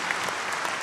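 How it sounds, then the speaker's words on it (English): A seated audience of delegates and dignitaries at a secondary school Model United Nations gives a dense, even burst of applause, with no talk over it. "Let's give a warm applause and welcome everyone."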